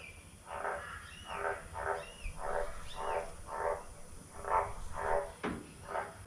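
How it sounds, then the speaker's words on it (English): A frog croaks in a regular series of about nine rasping pulses, close and fairly clear over a quiet outdoor background with faint hiss. "The frog is expecting rain."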